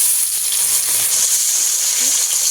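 Chilli and onion frying in oil hiss and sizzle in a steady, loud bright crackle that stays constant, with faint low clinks beneath.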